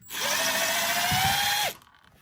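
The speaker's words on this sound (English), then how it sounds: "You need a screw gun with a Phillips bit" Screw gun fitted with a Phillips bit backing out a Phillips screw, a loud steady whine lasting about a second and a half that bogs briefly near the end before cutting off.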